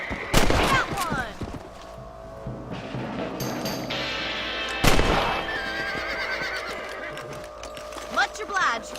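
Horses in the Red Dead Redemption video game: a whinny and hoof sounds amid game noise, with sharp bursts like gunshots and other effects layered throughout.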